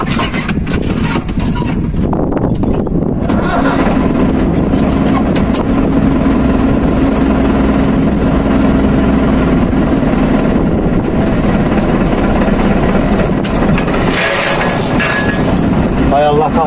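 A low tractor engine drones steadily throughout, loud and close, with someone talking over it now and then.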